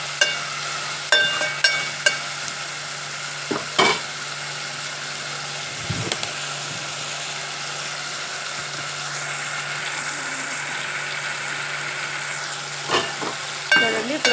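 Broad beans frying and sizzling in a pan for a chikkudu pickle, a steady close hiss with occasional stirring scrapes and clinks, a low hum running underneath.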